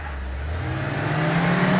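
An Amico and a JAC T8 pull away side by side in a drag race, engine roar rising steadily as they accelerate hard, loud and close for under two seconds.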